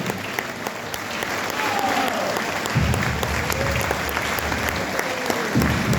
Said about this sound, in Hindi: ताली सम्मान में